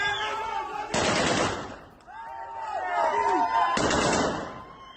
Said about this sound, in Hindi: इलाम में ताबड़तोड़ हवाई फायरिंग